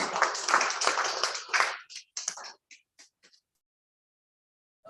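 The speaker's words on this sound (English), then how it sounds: "a round of applause for all of us." Applause at a Toastmasters club meeting: a short burst of mixed clapping that thins into a few scattered claps and fades to silence within a few seconds.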